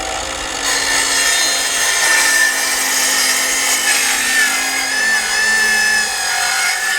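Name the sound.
sawing a 2x2 wooden board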